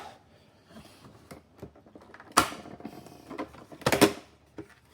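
A plastic center console trim piece is pried off a Lexus IS, which holds it without screws. Two sharp pops stand out amid light plastic clicks and scrapes, all close and with no talk.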